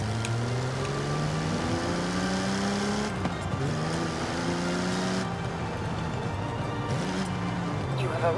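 A Jaguar D-Type in the Forza Horizon 5 racing game, its engine revving with rising and falling pitch sweeps, loud and continuous, with a brief tire squeal.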